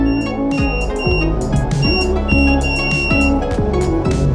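A piezo buzzer in a hobby touch sensor circuit with a diode and battery beeps in rapid repeated pulses that step up and down in pitch, loud and continuous with no talking.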